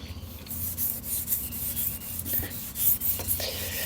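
Steady scraping and rubbing, like fine sandpaper worked back and forth over a hard surface, with a soft wet hiss running underneath: a car headlight being wet-sanded.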